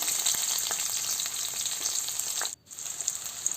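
Chopped onions frying in a pan for bottle gourd curry, a steady close crackling sizzle that briefly drops out for a moment before resuming, with no talking.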